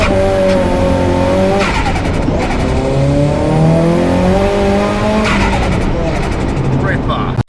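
A big-turbo rear-wheel-drive Nissan S15 making roughly 350 horsepower revs hard and skids, its engine note climbing and falling over loud, close tire squeal that runs almost the whole time.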